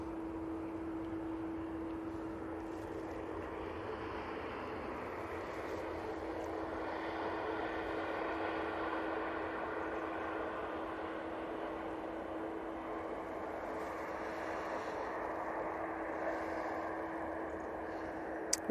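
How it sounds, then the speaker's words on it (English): Virgin Atlantic Airbus A350 arriving at Manchester Airport from Atlanta, a faint, distant jet rumble and whine that swells slowly and then eases, steady throughout with no speech. "And some lovely Virgin A350 loveliness for you"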